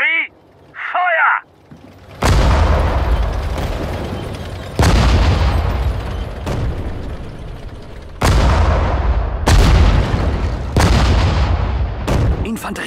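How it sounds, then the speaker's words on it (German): Artillery guns in the video game Sudden Strike 4 fire a series of heavy booms, about six loud shots at irregular intervals, each trailing off in a rumble, after a brief spoken command. "Artillerie! Feuer!"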